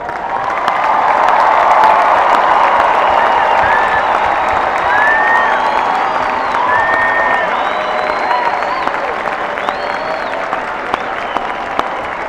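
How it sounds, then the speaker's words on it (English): Audience applause fills a large commencement ceremony hall, a dense sustained clapping from a big crowd with a few scattered cheers, swelling early and then easing gradually toward the end. "I can feel the momentum building for a good hand clap"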